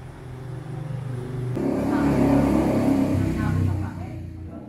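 A 2006 Honda City VTEC engine revs up after a quieter opening, its mid-pitched drone swelling and holding for a couple of seconds before easing off, with a voice talking over it.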